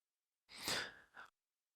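A single drawn-out yawn, breathy and near, rising into a long open exhale then a short tailing second breath, alone with no talk.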